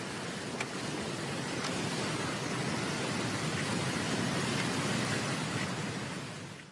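Heavy, intense rain pours down during flooding about a meter deep in Gunung Kidul, Yogyakarta, a dense unbroken hiss that holds steady before fading at the very end.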